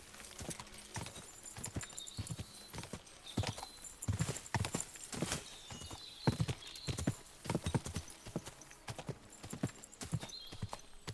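A horse galloping across open fields in Kingdom Come Deliverance II, with rapid, uneven hoofbeats close up and a brief whinny in the mix.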